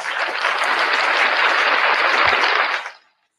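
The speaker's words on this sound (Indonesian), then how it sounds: "Tepuk tangan buat Yosnoya yang cakep dan manis" A room full of people claps loudly for Yosnoya during a Christian Q&A gathering, a dense, even burst of applause lasting close to three seconds before it stops abruptly into silence.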